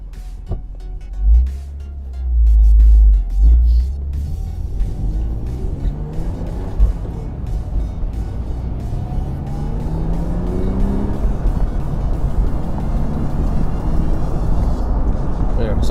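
A BMW Z3 with an inline-six engine on a test drive after getting a new idle air control valve, a steady low engine rumble and road noise from inside the car, rising gently as it pulls along.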